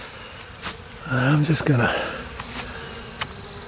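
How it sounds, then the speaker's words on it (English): Honeybees buzz frantically around a newly caught swarm in a trap hive, a steady insect drone with someone speaking briefly over it. "it looks like they're more frantic than bees should be coming into a new hive."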